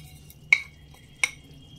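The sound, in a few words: stirring amra chutney in pan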